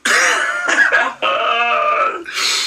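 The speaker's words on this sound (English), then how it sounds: "I also can't stop coughing today." Several harsh, raspy coughs close to the mic, in quick bursts with brief pauses between them, loud and throaty.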